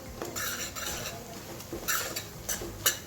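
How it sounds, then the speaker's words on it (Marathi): Thick spice paste for a turmeric pickle goes into hot oil in a pan, giving soft scraping and stirring clatter with a few sharper utensil knocks, quiet and close. "आपण हा मसाला केलेला जाडसर मसाला आपण आता या तेलात टाकून घेऊया"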